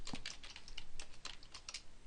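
Rapid typing on a computer keyboard, a steady run of close, crisp key clicks with irregular rhythm and no voices.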